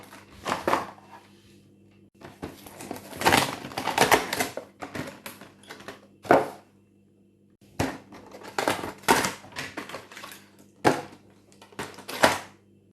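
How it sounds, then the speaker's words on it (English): Vintage Mattel Hook figures being pulled from their blister card packaging, heard as close bursts of crackling, snapping plastic and cardboard separated by short pauses. "I'm just going to crack them all open in quick succession."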